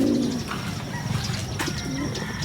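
Racing pigeons coo softly nearby in a few low, throaty murmurs, with light chirps and rustling around them.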